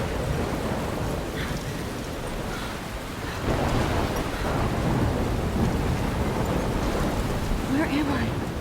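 A thunderstorm in the video game Life Is Strange: heavy rain pours in a dense, constant roar with deep rumbling thunder swelling midway, steady and enveloping throughout.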